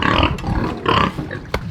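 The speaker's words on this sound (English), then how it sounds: "We'll see how these pigs are doing." Pigs on a homestead grunting and oinking in short bursts, several close snorts and squeals in quick succession with no talking.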